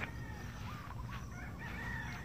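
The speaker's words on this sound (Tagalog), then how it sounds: "Manok sa gilid." A rooster crows at a rural hilltop spot among farm animals, a faint, drawn-out call at middle distance over steady background noise, with no talking.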